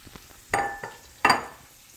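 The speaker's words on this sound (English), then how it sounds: "I've got some butter sizzling" Butter sizzles softly in a frying pan while a utensil makes a few sharp clinks and scrapes against it. There are three distinct metallic knocks over the quiet, steady frying hiss.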